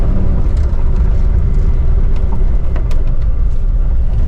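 Jeep TJ driving on the road with a newly installed master cylinder and freshly bled brakes, a loud steady engine and road drone throughout, with faint ticks and clicks and no talking.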